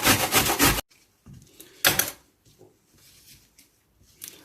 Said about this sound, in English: I will dice quarter of this red cabbage to small pieces by using grater.